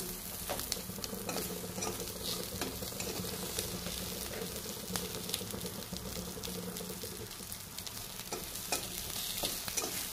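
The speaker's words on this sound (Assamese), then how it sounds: "একেবাৰে অকণমান তেলতে মই এনেকৈ ভাজি লৈছোঁ।" Frying in a pan with very little oil, turmeric and mustard seeds added, gives a steady crackling sizzle with stirring scrapes and clinks throughout, close and continuous with no talk.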